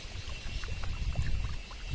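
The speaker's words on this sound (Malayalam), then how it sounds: "നമുക്ക് ഇത് കപ്പ് കൊണ്ട് തന്നെ കോരിക്കോരി ഒഴിക്കാം" A fertilizer mixture for mango trees is scooped from a bucket with a cup and poured, giving a soft, continuous wet splash and trickle close by with no talking.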